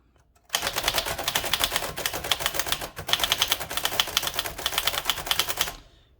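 Rapid, steady typing on a 1947-1949 Adler Favorit 2 thrust action typewriter, dense crisp key strikes following one another for several seconds, close and loud with no voices.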